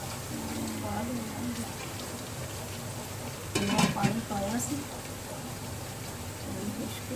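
Spices and ginger paste sizzle in a pan for onion-free, tomato-free Punjabi chole, a steady soft frying hiss with a brief louder crackle and stirring clatter partway through.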